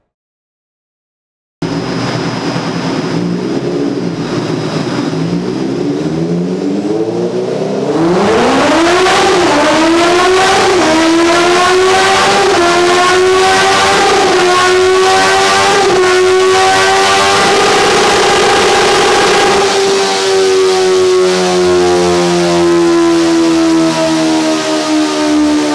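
A Suzuki Bandit 650 motorcycle engine on a dynamometer revs hard and steadily climbs in pitch through the gears, loud and close, holding a high sustained whine near the end.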